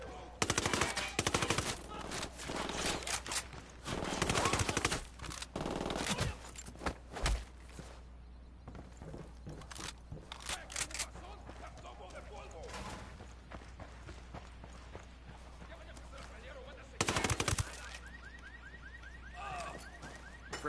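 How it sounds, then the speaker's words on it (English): Bursts of automatic gunfire and single shots in Ghost Recon Wildlands on PS4, coming in loud clusters across the scene with quieter gaps, footsteps and voices talking in between. "opening fire on these shitheads"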